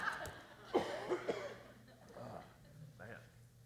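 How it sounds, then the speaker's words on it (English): A person with a cold coughs a few times in quick succession, the coughs muffled and somewhat distant as if away from the microphone, followed by quieter breathing and throat sounds. "take my mic off and have a good cough"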